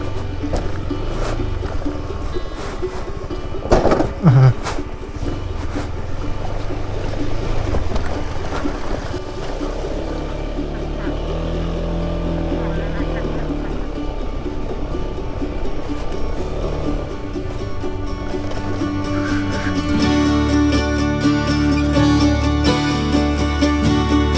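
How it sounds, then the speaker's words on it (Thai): Ngachang waterfall in Omkoi, Thailand, pours in a steady, broad roar of rushing water close by, with wind buffeting the microphone in gusts and the rumble thickening toward the end. "น้ำตกอยู่ข้างหลังเราเนี่ยครับ"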